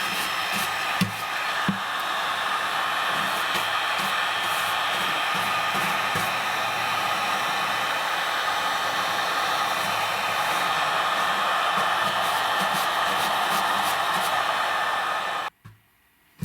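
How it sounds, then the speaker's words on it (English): Heat gun blowing hot air onto the glued bridge of a pawn shop acoustic guitar, a steady, close, loud whooshing hiss that runs unbroken before cutting off abruptly near the end. "I'm just going to use a heat gun for, just to heat it up a little bit"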